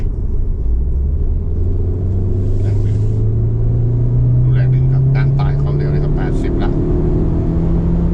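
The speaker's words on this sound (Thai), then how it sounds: "ผมลองกดเร่งนะสามสองหนึ่งไป" An MG HS D facelift SUV accelerating uphill in Eco mode from about 50 to 100 km/h, heard from inside: a loud, steady engine drone climbs smoothly in pitch over several seconds, with faint voices murmuring in the cabin.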